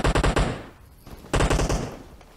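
Rapid automatic gunfire bursts in PUBG Mobile, loud and close, two clusters of quick shots separated by a short pause.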